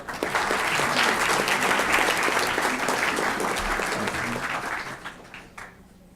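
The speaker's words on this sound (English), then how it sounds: "So let's give them a round of applause." An audience at a school district board meeting applauds students with sustained clapping that fades out at the end, a voice faintly present beneath.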